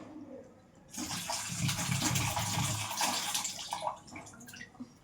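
Water gushes out of a green coconut in a sudden splashing stream that starts after a moment's quiet, holds steady for about three seconds, then tapers off into a few faint drips nearby.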